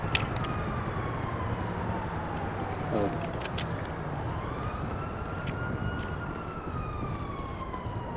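A wailing police siren chases the player in the video game Grand Theft Auto V, its pitch sweeping steadily up and down and staying loud throughout, under continuous game noise and a voice talking.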